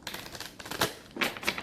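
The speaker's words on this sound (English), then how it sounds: "Let's do 3 more shuffles" A tarot card deck being shuffled by hand, a soft papery riffle of cards in quick bursts, faint and close, with no talking.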